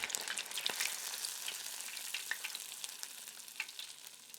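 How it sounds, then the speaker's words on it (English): Battered tempura shrimp and vegetables fry in hot oil, a dense, steady crackling sizzle with occasional louder pops, heard up close and fairly quiet, with no voices. "Continue battering and frying the rest of your shrimp and veggies."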